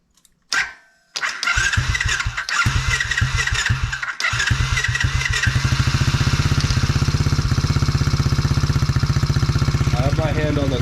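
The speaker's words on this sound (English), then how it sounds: "I'll pop the choke down and see if she'll start." A Tao Tao DB10 dirt bike with the choke on coughs and sputters through a few uneven cranking bursts, then catches and settles into a loud, steady, close-up idle rattle.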